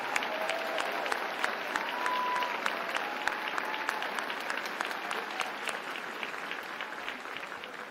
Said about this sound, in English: Ladies and gentlemen, please give these veterans here today a round of applause.